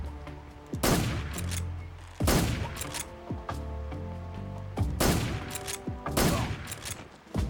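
Gunshots in the stealth game Metal Gear Solid 3: Snake Eater ring out as four sharp, well-spaced cracks, each trailed by echoing decay and tonal game sounds.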